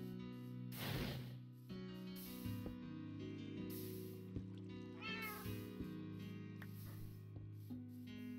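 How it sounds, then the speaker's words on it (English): A cat meows several times at close range, with drawn-out calls and a strained, caterwauling cry, over a faint steady background tone in a modded Minecraft Skyblock session. "Meow."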